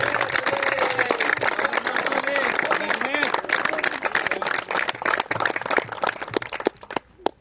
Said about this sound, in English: So can we have a big round of applause for runners-up Appale Bridge, please?